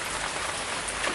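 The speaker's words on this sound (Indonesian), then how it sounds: "hujan." Steady rain pours down around an empty house, a dense, even hiss of drops on surfaces that stays close and unbroken throughout, with no voices.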